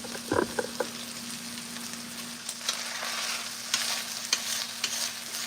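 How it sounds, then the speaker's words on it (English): Corn seasoned with black pepper fries and sizzles in a pan with a steady hiss, broken by several scraping stirs and small pops. It is close and moderately loud, with no talk. "it is frying up."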